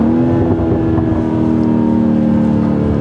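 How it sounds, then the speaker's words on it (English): A 2021 BMW X3 M40i with its B58 3-liter straight-six and sport exhaust holds a loud, steady engine drone with a strong tonal hum that stays even throughout, with no talk. "This engine just sounds so good. It sounds better than the 3-liter V6s that are in the Audis."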